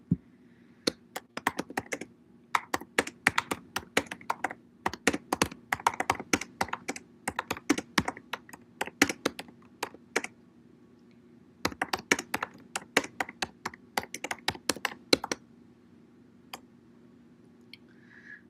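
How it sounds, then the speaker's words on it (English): Typing on a computer keyboard, rapid bursts of close, crisp key clicks in uneven runs with short pauses, over a steady low room hum and no talking. "I'll type it into the chat while you're thinking."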